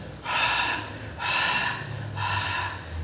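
Three slow, deliberate deep breaths drawn in close, each a loud airy rush lasting about a second, taken to ease chest pain and suppress a cough, with no talking.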